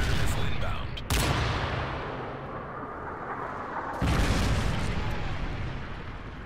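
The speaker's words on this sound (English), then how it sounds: "Friendly predator missile inbound." Predator missile strike in Modern Warfare 3 multiplayer, heavy explosive booms at two points over continuous gunfire and battle rumble, loud and close.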